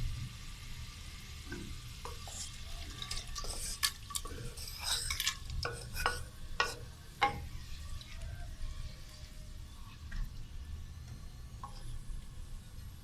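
Chicken dropped into hot cooking oil gives a quiet, steady sizzle, broken by a few sharp crackles and spoon scrapes as it starts to fry.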